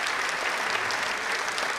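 A seminar audience applauds, giving a loud, continuous wash of many hands clapping throughout the moment.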